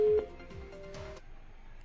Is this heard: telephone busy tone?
yes